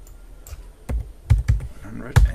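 A computer keyboard is typed on during data entry, with a few light key taps followed by several heavier, distinct presses of the enter key, close and clear in a quiet room.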